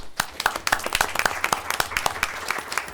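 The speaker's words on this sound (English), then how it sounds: "And give them all a round of applause again" A round of applause for retiring staff at a school board of education meeting, with a modest group clapping in a steady, uneven patter of distinct handclaps that carries on for a few seconds.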